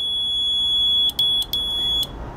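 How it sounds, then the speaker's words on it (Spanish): A steady high-pitched multimeter continuity beep sounds continuously while testing a pressure cooker's pressure sensor, briefly cut off a few times near the end, loud and close, with no speech. "Como pueden ver, ahí pita. Aquí pita, ¿verdad?"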